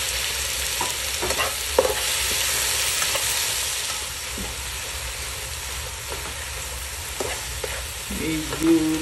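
Tomatoes being sautéed and pressed down in a frying pan for a stir-fry of sponge gourd, string beans and mushrooms: a steady close sizzle with intermittent scraping and stirring clicks, and no talking.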